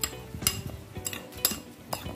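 A spoon clinks against a bowl while fish sauce seasoning is stirred, a few sharp metallic taps spaced irregularly over soft scraping, close and moderately quiet.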